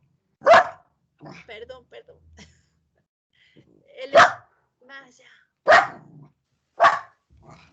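A dog barks loudly and close by in several single, well-spaced woofs, with a few quieter voices talking briefly in between.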